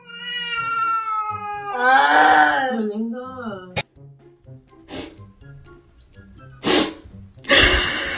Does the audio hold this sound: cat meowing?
yes